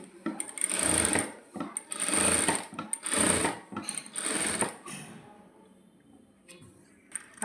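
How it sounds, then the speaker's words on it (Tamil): A sewing machine runs a long basting stitch on a garment, with four bursts of fast rattling stitching separated by short pauses, close and fairly loud, then quieter sounds as the machine stops. "இப்போ வந்து டம்மி தையல் போட போகிறேன்"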